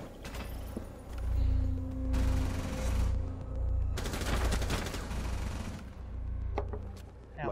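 Gunfire in Rainbow Six Siege comes in several loud, sustained bursts of rapid automatic shots, separated by brief lulls, with heavy low rumble under the bursts.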